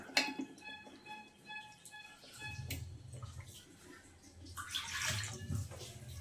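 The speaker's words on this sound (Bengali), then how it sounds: "আর আমি আর এক বাটি পানি দিয়ে দিচ্ছি" A bowl of water is poured into a pan holding potatoes for a Bangladeshi dried-fish (shutki) curry, a splashing, running pour swelling over several seconds alongside light kitchen clinks.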